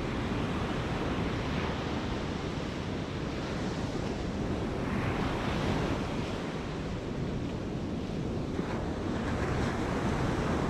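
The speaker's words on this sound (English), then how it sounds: "we decided to check out Gold Bluffs Beach as well" Surf rolls in at Gold Bluffs Beach in Redwood National and State Parks, a constant wash of waves mixed with gusting wind buffeting the microphone, steady throughout.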